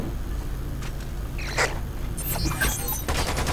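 Gunfire in the Lost Planet 2 video game, a few bursts of shots and blasts over a steady low rumble of in-game background noise, loud and close, with no talking.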